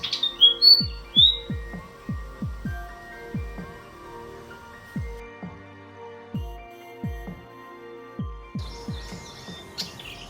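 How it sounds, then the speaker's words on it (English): Fantail birds chirp in short, high squeaky bursts at the start and end, clear and fairly close, while a series of deep rhythmic thumps pulses underneath. "Fantails are busy birds with a periodic signature tweet that makes one aware of their presence."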